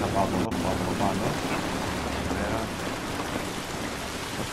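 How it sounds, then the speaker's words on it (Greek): Steady rain from The Last of Us Remastered, a dense even hiss of falling drops that fills the whole clip at a constant level, with game sounds and some voices faintly underneath. "Εκεί βλέπεις πόσο ωραία είναι η βροχή"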